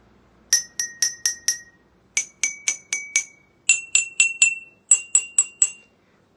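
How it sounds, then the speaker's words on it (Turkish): Drinking glasses filled to different levels are struck with a spoon in order from fullest to emptiest, giving four quick groups of bright, ringing clinks, about four or five even taps per glass, each note a little higher than the last. "İlk önce en dolu olan bardaktan başlayarak en boş olana doğru sırasıyla bu kaşıkla vuracağım."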